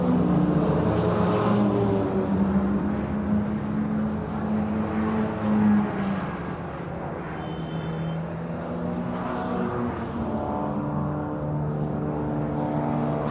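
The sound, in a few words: MG Midget Sprite Challenge race cars qualifying on track at Brands Hatch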